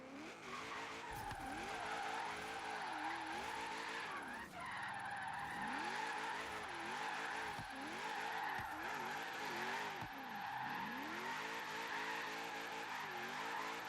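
A race car in a racing video game runs a downhill stretch on a dry track, its engine whining and revving up and down in repeated swells with tire skids and gear shifts throughout.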